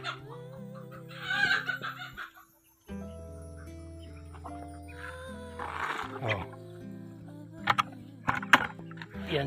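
Chickens clucking and squawking at feeding time, with scattered bird calls over a steady low hum and a brief drop to silence midway.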